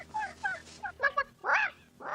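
A two-year-old Polish hen clucks in a handful of short, nasal calls, close by and moderately loud, arriving in uneven bursts with brief pauses between them.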